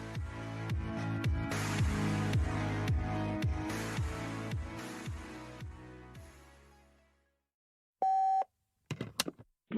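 Beep from a podcast answering machine: after music fades into silence, one clear electronic tone sounds alone, followed by brief faint clicks of a recorded message starting.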